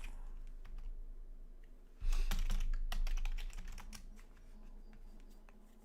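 A terminal command is typed on a computer keyboard, quick bursts of close key clicks that turn louder and denser midway, then ease off into lighter scattered taps.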